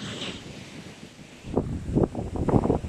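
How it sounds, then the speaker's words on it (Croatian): Wind on a Hawaiian shore buffets the microphone in rumbling gusts, soft at first and then stronger in bursts toward the end. "ovo što vjetar puše, da se ne čuje"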